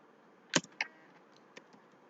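A bank branch name being typed on a computer keyboard: a handful of light, crisp key clicks, irregularly spaced and fairly faint in a quiet room.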